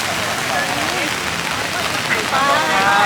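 Heavy rain pours steadily onto surfaces at an open-air market during a rainstorm, a dense continuous hiss, with faint voices talking underneath.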